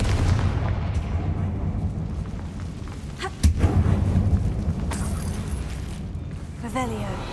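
In the game Hogwarts Legacy, a Confringo fire spell explodes with one sharp blast midway through a dense, rumbling soundscape, with spoken voices around it.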